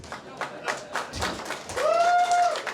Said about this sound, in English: One guy applauds.